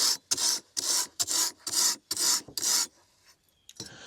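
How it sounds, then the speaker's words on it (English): A metal file rasps across a machete blade in seven steady, evenly spaced strokes, each a loud, bright scrape, close by with no talk, then the work goes quiet apart from a faint scrape or two at the end. "You can sharpen your machete with a file."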